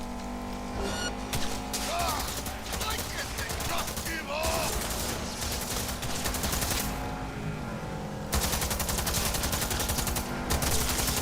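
In the video game Cyberpunk 2077, a Defender gun fires in dense, continuous bursts of rapid loud gunfire, with a few short pauses and a voice speaking over the shooting.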